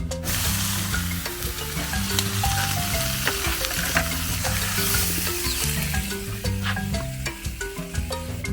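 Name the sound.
egg and salami wrap sizzling in a frying pan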